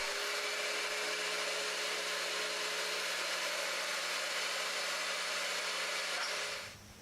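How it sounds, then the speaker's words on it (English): Router cutting grooves in reclaimed wood, a loud continuous high whine with a steady cutting roar that holds for several seconds, then winds down near the end. "I raised the router bit, and I made a second pass to make these grooves their full depth"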